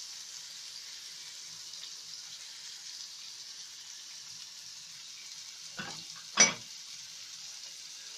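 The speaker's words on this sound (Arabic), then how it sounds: "هنزل بالتفاح اللي قطعته" Chopped apples cook in melted ghee with sugar and cinnamon, a soft, faint, even sizzle with one or two brief clatters near the end.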